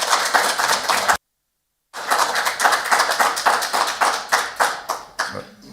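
Members of the public at a district council planning committee meeting clap loudly and steadily, a dense crowd applause that cuts out briefly and then resumes, thinning toward the end.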